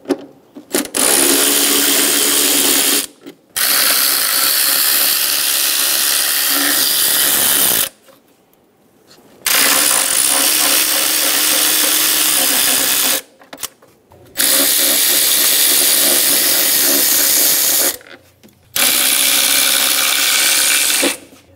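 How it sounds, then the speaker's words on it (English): Repeated bursts of a power tool, likely an impact or electric ratchet on a 10 mm socket, spinning out timing cover bolts on a 2010-2014 Subaru Outback. Four or five loud, close runs of a few seconds each, separated by short pauses. "Using a 10 millimeter socket, we're gonna remove all of the bolts around the timing covers."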